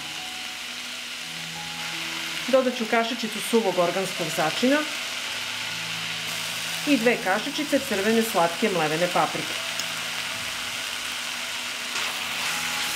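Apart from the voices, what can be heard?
cabbage frying and being stirred in a pan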